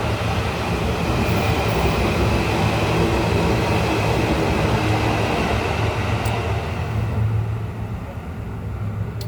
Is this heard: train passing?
yes